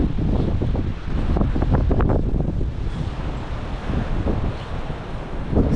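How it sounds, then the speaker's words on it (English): A strong windstorm in the Ohio Valley roars across the microphone in continuous heavy gusts, a dense low buffeting that swells and eases without pause, with no voices. "we're in the really windy period right now"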